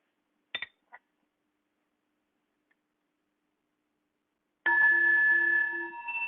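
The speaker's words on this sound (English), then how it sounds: "I'm going to sound the bell once" A single bell is struck once and rings out clearly, its tone sustaining and slowly fading after a few faint clicks and a long silence.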